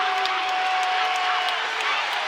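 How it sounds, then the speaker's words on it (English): Ball State basketball crowd in an arena cheering and applauding during a tied late-game moment, a dense continuous roar of clapping and shouts with an announcer's voice over it. "But now the Ball State crowd backing their squad."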